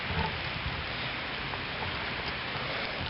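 Steady rain falls on a fishing pond, a dense continuous hiss of drops with no talking, even and fairly close throughout.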